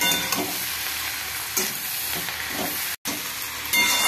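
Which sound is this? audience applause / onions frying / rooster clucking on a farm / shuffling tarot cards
onions frying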